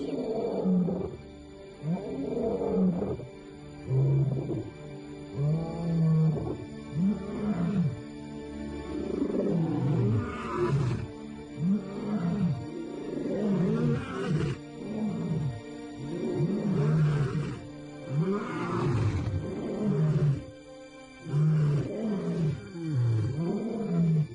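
Male lions roar in a long series of deep, rhythmic bouts, each building through grunting calls and fading, loud and near, with brief pauses between bursts.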